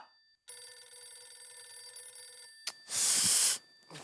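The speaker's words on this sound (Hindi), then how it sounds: "तो मेरे ही फोन में बज रहा है।" A telephone rings with a continuous electronic trill, then a short burst of noise follows before it briefly resumes.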